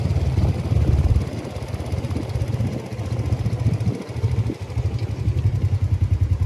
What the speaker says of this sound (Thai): นี้จะเป็นรถมอเตอร์ไซค์บริการรับส่งไปที่คิวรถโดยสารจากหน้าด่าน วังเต่าไปที่ตัวเมืองปากซีครับ